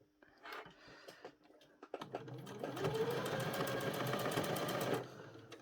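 Sewing machine stitching the waistband of jogging bottoms: a few quiet handling knocks, then a close, rapid mechanical whir of stitching that runs for about three seconds and stops.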